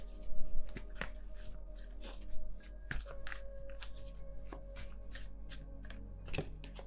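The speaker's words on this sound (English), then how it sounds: "I shuffle my cards a lot" Rapid, papery riffling of tarot cards being shuffled, with soft flutters and sharper snaps in irregular bursts, close by and fairly quiet, no talking.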